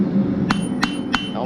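A blacksmith hammering a hot steel heart hook on an anvil: three evenly spaced, bright metallic strikes ring out over a steady background hum, close and moderately loud.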